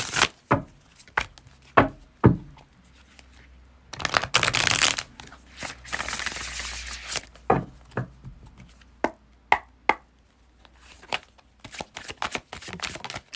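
Cards are shuffled in repeated riffling bursts with sharp taps and snaps in between, close by and fairly loud, with no voices.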